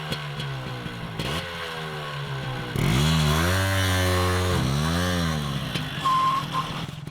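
A motorcycle engine, just after a carburetor repair, idles and then revs up in two rising surges, loud and nearby, before settling back.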